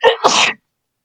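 A single loud sneeze right up close, a sharp intake followed by an explosive burst, then silence.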